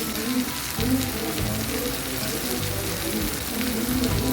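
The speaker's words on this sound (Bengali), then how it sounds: "টমেটোগুলো পেঁয়াজ কুচি রসুন কুচির সঙ্গে ভালোভাবে ভেজে নেব" Chopped tomatoes fry with onion and garlic in a pan, giving a steady, close sizzle and crackle that holds evenly throughout without any voice.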